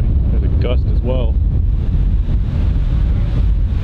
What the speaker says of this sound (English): Oh boy, there's a gust as well.